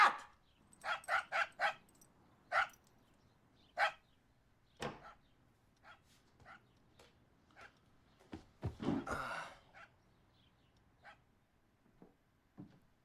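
A dog barks repeatedly in short sharp bursts, some clustered quickly together and others spaced apart, fairly close and loud, with a few softer yips and a rougher noisy burst near the end over a quiet background.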